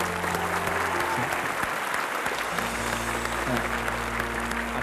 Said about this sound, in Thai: ดีมากปรบมือปรบมือ